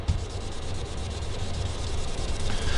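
Sandpaper rubs across a stained quilted maple guitar top, making a soft, continuous scratchy hiss that grows slightly louder toward the end.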